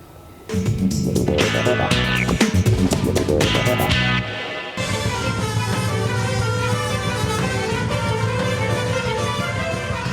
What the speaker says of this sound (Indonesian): suara telolet bus dianggap mengganggu saat ujian tengah berlangsung